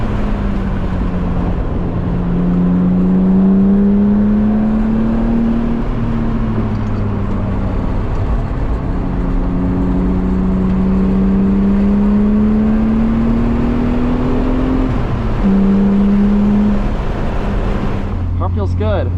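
A car at speed on a race track with track tires, probably a Miata, its engine droning steadily and rising and falling in pitch through gear changes, loud and close throughout, with a brief knock near the end.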